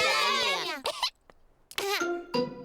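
Pedro Pony, a cartoon pony in Peppa Pig, gives a run of short, voiced coughs in clustered bursts split by a brief quiet gap, loud and close in a dubbed children's cartoon.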